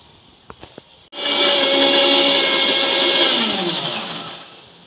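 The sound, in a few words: mixer grinder blending mango kulfi mixture in jar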